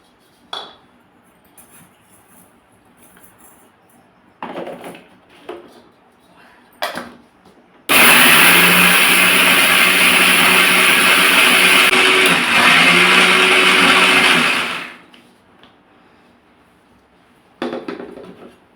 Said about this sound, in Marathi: मी घरीच मिक्सरला आता इथं वाटून घेणार आहे